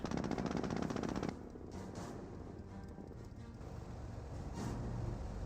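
Gunfire and battle noise from a Company of Heroes 1 match pitting US forces against Panzer Elite, with a dense burst of rapid shots at the start, then a rumbling mix of scattered fire and explosions.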